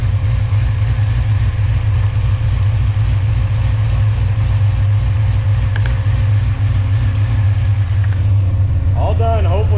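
A Corvette engine idles with a steady, loud low rumble and faint mechanical ticking, continuous throughout with no talk, and a short creak near the end.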